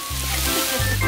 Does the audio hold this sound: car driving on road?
no